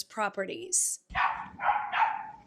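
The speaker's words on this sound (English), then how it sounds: "next-door neighbor's dog barking on their security video when the intruders hopped the fence" A neighbor's dog barks next door during a home break-in, picked up on a security camera: a few short, fairly loud barks after a brief line of speech.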